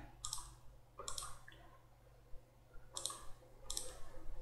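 Several crisp mouse clicks on buttons in an Excel 2016 VBA worksheet, four short sharp clicks spaced over a few seconds against a low steady hum, no talking.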